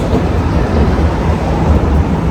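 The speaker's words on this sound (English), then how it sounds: "That is a tram going by making noise." A tram rolls along a city street at night, a loud, dense low-frequency rumble and rattle that stays heavy and even throughout with no voices.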